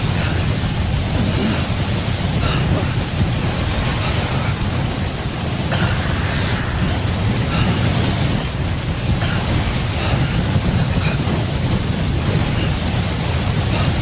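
Heavy rain pours in a stormy landscape in the video game Death Stranding, a loud, dense downpour with rumbling thunder rolling underneath and swelling at times, with no talk over it.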